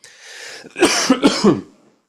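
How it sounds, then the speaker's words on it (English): A few harsh, rough coughs in quick succession, close up, after a short breathy exhale. "I'm so sorry about the coughing, viewers."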